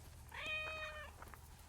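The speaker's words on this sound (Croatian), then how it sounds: "Nismo očekivali ovoliko mački." A cat meows once in Assassin's Creed Origins, a clear, drawn-out, rising-then-falling meow heard up close over a low, steady background hum.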